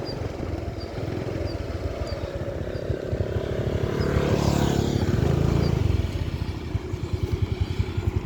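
A motorcycle or similar two-wheeler rides along a bypass road past a veterinary hospital, with a steady engine drone that swells louder near the middle and carries on to the end, close to the microphone without talk.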